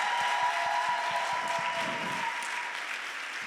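Sustained audience applause at a summit, a thick continuous wash of clapping with a few distinct nearby claps early on, holding steady throughout.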